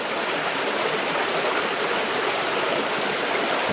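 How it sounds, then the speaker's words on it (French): River water rushes steadily through a flooded old mine, a loud, continuous, close roar of flowing water with no pauses or voices. "Donc je pense que la rivière coule d'ici aussi."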